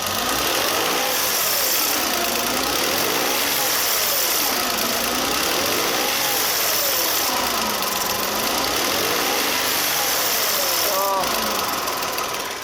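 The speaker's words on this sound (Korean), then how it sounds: "조수석 뱅크 쪽에서 뭐가 이게 쇠가 탁 치는 소리처럼" A Genesis EQ900 engine runs at a steady idle with a rough, metallic knocking from the passenger-side cylinder bank over the hum, the tone rising and falling as the throttle is blipped; a person talks throughout.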